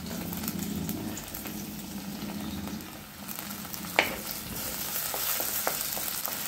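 Chopped tomato hits hot oil in a pan for a Kerala-style sardine curry with ground coconut, giving a steady, close sizzle and frying crackle with a brief clatter of stirring midway. No one speaks.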